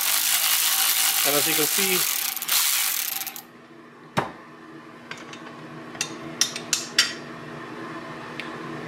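A ratchet clicks rapidly as a T30 bolt is loosened on an M156 camshaft phaser, followed by quieter metallic clinks and taps of tools and parts while someone talks.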